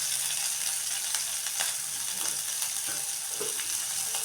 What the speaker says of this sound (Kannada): ಸ್ವಲ್ಪ ಎಣ್ಣೆಲಿ ಈರುಳ್ಳಿ ಚೆನ್ನಾಗಿ ಫ್ರೈ ಆಗುತ್ತೆ